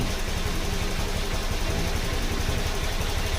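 A Honda Click motorcycle engine idles at low RPM during sensor testing and repair, a steady, unbroken mechanical hum and hiss that stays at an even loudness from start to finish.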